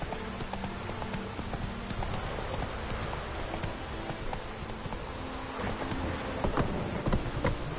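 Roach the horse trots in The Witcher 3, its hooves clip-clopping in a steady rhythm amid rainy ambient noise, close and fairly quiet, with no speech.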